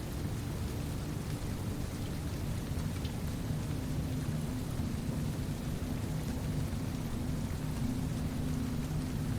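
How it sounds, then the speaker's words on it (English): Rain falls steadily through a forest canopy, a dense, even hiss with a low rumble of thunder underneath, constant throughout and with no voices. "the rain begins."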